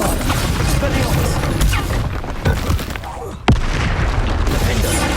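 Bombarda and Confringo spells blast in Hogwarts Legacy, loud booming explosions with a sharp crack near the middle, over constant battle noise and shouted incantations.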